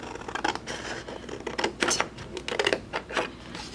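Scissors snip through planner paper in a run of short, crisp cuts with brief pauses between, close and fairly loud, no talking.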